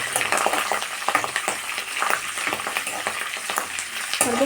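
Curry leaves and green chillies fry in hot oil, a continuous dense crackle and sizzle with scattered sharp pops throughout, close and fairly loud with no voices.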